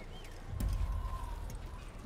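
Horse hooves from the Assassin's Creed video game, soft clip-clop thuds at low volume over a faint background, briefly louder in the middle.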